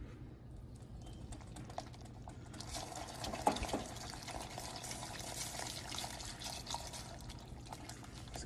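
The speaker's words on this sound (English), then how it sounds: "we'll add in the rum" Rum being poured into a hot glaze in a pan, a faint sizzle and bubbling hiss rising partway through and continuing softly, with small clinks and taps.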